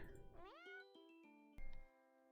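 In the video game Purrfect Date, a cat gives a rising, drawn-out meow, followed by a second, shorter mew with a light chime, clear and close against quiet.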